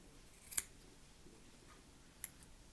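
Scissors trimming the fluffy excess cotton wick on a dual coil Wismec Indestructable RDA, two quick faint snips well apart against near silence.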